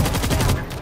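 Rapid bursts of gunfire in World War Z, a zombie shooter game, crackling loud and dense across the whole moment before thinning out slightly at the end, mixed with chaotic game noise.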